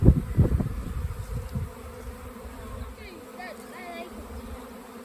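A swarm of flying honey bees buzzes in the open air, a dense droning hum with louder rustling bursts at first and individual bees whining past nearer toward the end.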